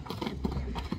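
A horse led at a walk, with soft hoof clip-clops landing in an uneven rhythm over a low background hum. It is close but fairly quiet, with no talk.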